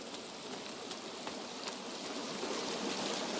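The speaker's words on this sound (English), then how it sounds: "sometimes you enter an area where the water is so loud" Loud rushing water roars from a nearby waterfall in the video game The Forest, a dense, steady wash of splashing with no break and no voices.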